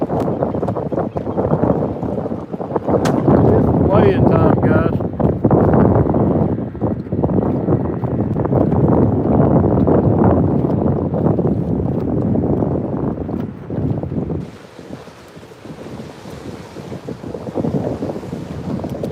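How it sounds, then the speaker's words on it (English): Heavy wind buffets the microphone with a constant roar while passing bass boat engines drone nearby, easing off near the end to calmer water noise. "Between the wind and the bass boats, you probably can't hear me."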